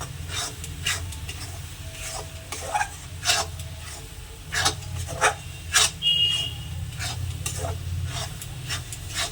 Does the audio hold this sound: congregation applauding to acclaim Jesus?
no